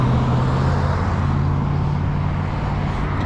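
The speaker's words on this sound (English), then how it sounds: "Traffic's bad here too." Road traffic noise on a highway stretch from Kamloops to Vancouver, a dense, steady rumble of passing vehicles heard from inside a moving car, continuous and fairly loud with no voices.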